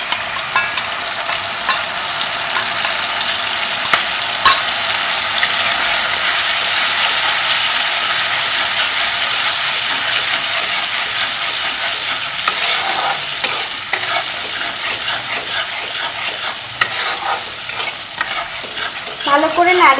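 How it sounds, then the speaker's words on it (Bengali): Chili chicken with onion, capsicum and four kinds of sauce stirred in a hot pan, loud continuous sizzling and frying with repeated scraping and clattering of a spatula against the metal, close and without voices for twenty seconds. "ভালো করে নাড়িয়ে নেব।"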